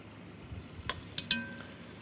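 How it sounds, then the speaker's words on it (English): Glazed pork frying face down in hot oil in a cast iron skillet, a soft steady sizzle with a few sharp crackles and pops. "Okay, so we've got a sizzle going on there."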